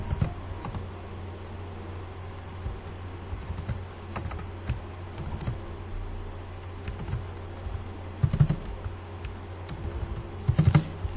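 Typing on a computer keyboard while entering Java code, a steady patter of soft keystrokes with a few louder, clustered key presses near the end, heard alone without talk.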